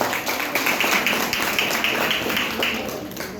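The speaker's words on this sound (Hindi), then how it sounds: "एक बार इनके लिए जबरदस्त ताली" Audience applause for silver rank members at a health awareness program in an office hall, a steady patter of many hands clapping for a few seconds before fading slightly.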